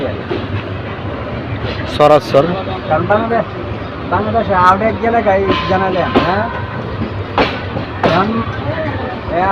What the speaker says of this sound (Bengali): কিশোরগঞ্জ এক্সপ্রেস ট্রেনটি মানিকখালী রেল স্টেশন ছেড়ে যাচ্ছে